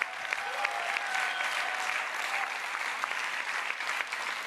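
Steady applause from a large conference audience of several hundred people fills the room, a dense even wash of clapping that holds at a constant level throughout with no voices standing out.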